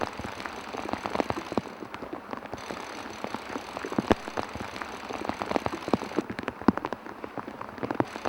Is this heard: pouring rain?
yes